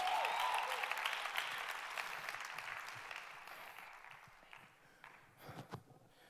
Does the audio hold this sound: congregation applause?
yes